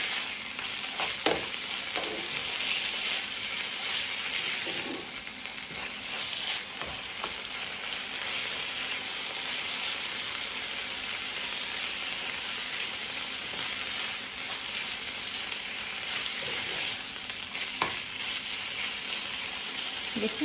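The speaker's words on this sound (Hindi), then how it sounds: "अब हम इसके अंदर चिकन डालेंगे और चिकन को अच्छी तरीके से फ्राई करेंगे।" Chicken pieces frying with stir-fried onions in a pan for a chicken mushroom karahi, a steady loud sizzle with occasional stirring scrapes throughout, no voices.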